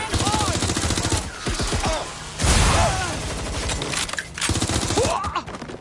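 Rapid, close automatic gunfire rattles in repeated bursts during a Watch Dogs Legion shootout, with short pauses between volleys, a heavier thump in the middle and voices shouting underneath.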